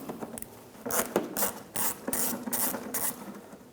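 Phillips head screws being backed out of the bumper cover on a 1997-2001 Honda CR-V, a close series of short ratcheting, rasping screwdriver turns with brief pauses between bursts, no voices.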